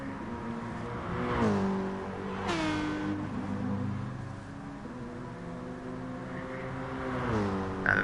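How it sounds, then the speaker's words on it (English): A Mercedes race car tears through Spa-Francorchamps in Gran Turismo Sport, its engine rising and falling through several gear shifts in a loud, continuous whine that dips sharply under braking before climbing again. "Now the Mercedes braking in a straight line underneath the Circuit de Spa-Francorchamps board"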